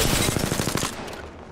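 In the battle royale Apex Legends, rapid automatic gunfire strikes the player, a loud, dense burst of close rattling shots that cuts off and fades out within about a second.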